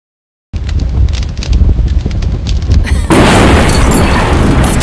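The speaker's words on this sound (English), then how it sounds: "Fireworks to keep them busy while I escape this cursed old city." Fireworks bursting in the dark fairy-tale video game Woolfe: The Red Hood Diaries: a sudden rumbling boom opens after a moment of silence, and a louder, denser wave of explosions follows partway through and roars on to the end.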